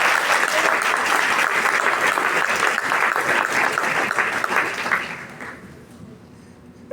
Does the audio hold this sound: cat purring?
no